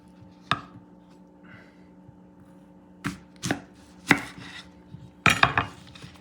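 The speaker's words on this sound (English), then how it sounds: "I'm going to cut it in half again, in the middle" Knife cutting food in half on a board during cooking of chickpeas with cod, one sharp chop followed by a series of close, crisp thuds grouped toward the end, no voices over them.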